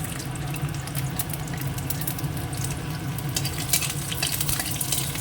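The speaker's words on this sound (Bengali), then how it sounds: "এটাও একটু ভেজে নেবো রসুনটা ভাজা হয়ে গেছে" Garlic fries in oil in a kadai alongside dried red chilies, giving a steady, close, hissing sizzle that stays even throughout with no talking.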